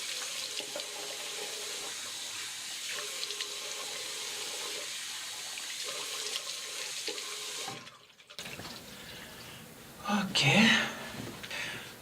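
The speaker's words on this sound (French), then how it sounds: "Allez, on rince." Tap water runs steadily into a sink during a morning face rinse, a soft continuous hiss broken by a short pause, then louder splashing as hands scoop water near the face, with a quiet whispering voice at times.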